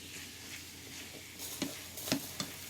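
Garlic and prawns fry in a pan with a soft, steady sizzle, broken by a few distinct scraping and clinking stirs during the second half. The sizzle is quiet and no one speaks.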